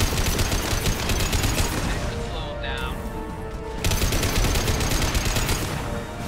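Dense, continuous gunfire from a firefight in Mass Effect, loud and sustained throughout with rapid overlapping shots, briefly thinning in the middle before resuming at full intensity.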